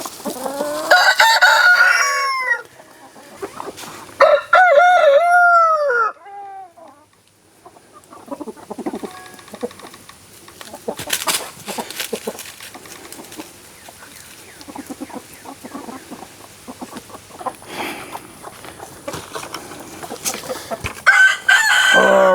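Chickens cluck and a rooster crows loudly and close at the start, with more crowing calls following, then scattered clucks, scratching and pecking sounds as the flock feeds, with an occasional crow near the end.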